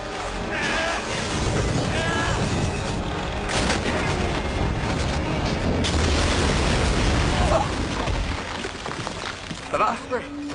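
Sustained gunfire and booming blasts in a disaster-film scene of chaos, loud and dense with overlapping reports and rumble, shouting voices mixed in and a few sharper bursts near the end.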